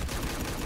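Deadshot firing his gun in the fighting game Injustice 2, a short steady burst of low thumping shots at moderate volume with no talk over it.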